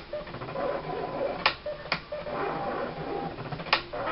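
An eCraft 2 cutting machine slices thick paper with a soft, steady mechanical whir, punctuated by three sharp clicks or ticks spaced apart, close by with no talking.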